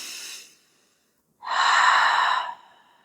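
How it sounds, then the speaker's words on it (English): Deep inhalations during a yoga flow, heard close and alone: the tail of one breath fades out, then after a quiet gap a second long, airy breath in swells and eases off. "Breathing in."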